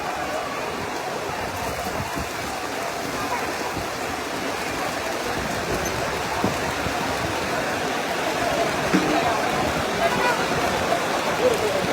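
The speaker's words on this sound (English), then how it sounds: "we are being blessed with rain" Steady rain falls at an outdoor event at Godwin Achebe Stadium in Fegge, a dense, even hiss that swells slightly toward the end.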